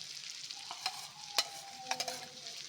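Bangda mackerel frying on a hot tawa, pressed down with a spatula: a steady soft sizzle with a few sharp scraping taps of the spatula against the iron, close and fairly quiet, no voices.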